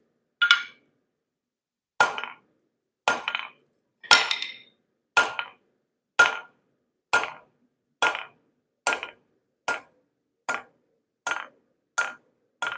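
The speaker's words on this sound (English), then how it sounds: "All right, let's move some steel around here." A blacksmith's hammer strikes hot steel about fourteen times while forging hooks, each blow a sharp, loud metallic clang spaced roughly a second apart, ringing briefly in an otherwise quiet space.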